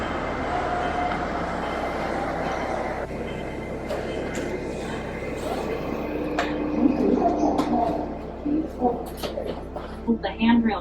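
Steady, loud rumble of an inter-terminal airport train in Sydney riding between terminals, a continuous broadband roar that holds throughout, with voices breaking in over the noise in the final seconds.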